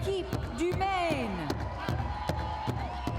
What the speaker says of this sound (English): Big cheer for Team Maine.